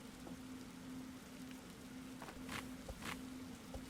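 Rain falls in the Roblox game 99 Nights in the Forest as a faint, steady hiss broken by scattered soft droplet taps.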